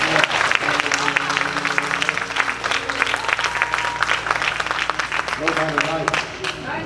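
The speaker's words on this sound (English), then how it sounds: "Somebody give God a hand clap of praise." A church congregation breaks into a hand clap of praise during a sermon, dense sustained applause mixed with crowd voices and shouting, loud and continuous throughout.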